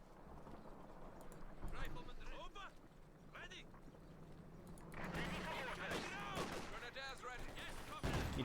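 Tank cannon and gunfire from a Company of Heroes 2 battle, Soviets against OKW, including a T-54 firing, with sharp battle bursts and rumbling effects under continuous commentary.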